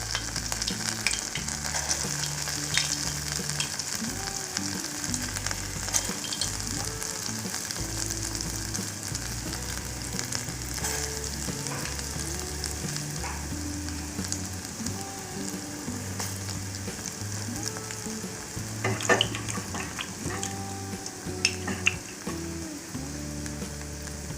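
Small vada fritters for Kerala sadya-style kootu curry fry in hot oil, giving a steady, dense sizzle and bubbling that runs unbroken throughout, close up and with no talking.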